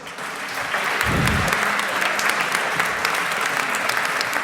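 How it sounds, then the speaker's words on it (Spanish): Audience at a courthouse book launch ceremony applauds, a thick, even wash of clapping that swells in and continues steadily, with a brief low thump partway through and no speech over it. "Un fuerte aplauso, por favor"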